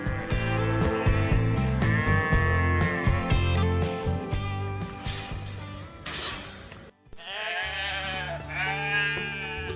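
Sheep on a farm bleat repeatedly in a busy chorus, close and loud, with clinking and bustle in the background.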